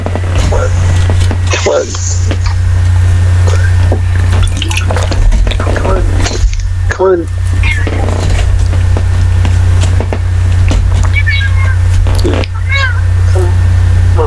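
A cat meows over a loud, steady background hum, with occasional dripping or liquid sounds, while people talk throughout.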